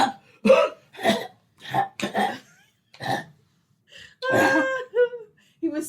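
A man breaks into a coughing fit: a string of about eight harsh, irregular coughs and throat-clearing bursts, close and fairly loud, with short pauses between them.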